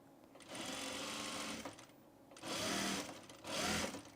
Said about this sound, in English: So I'm just gonna sew the bias right sides together and then just turn it to the inside, not folding it.